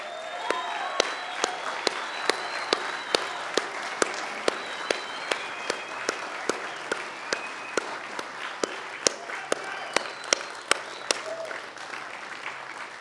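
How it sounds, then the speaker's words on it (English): An audience at an electric vehicle production launch event claps steadily for about thirteen seconds. The applause is moderately loud, with sharp individual claps standing out above a continuous crowd wash. "join me in a big round of applause for the Arcimoto team"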